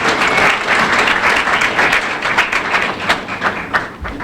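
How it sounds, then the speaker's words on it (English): Audience applause for teachers at a news event, a steady wash of clapping that fills the whole stretch without pause and ends with a few scattered claps. "Please give the teachers a round of applause for the work that they put in."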